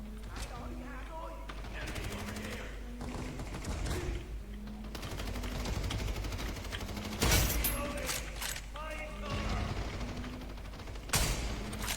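Rapid gunfire bursts from the online shooter game Crossfire, including shots fired through glass, crack out in repeated volleys over a steady game background, with a few louder sharp shots and tonal game cues between bursts.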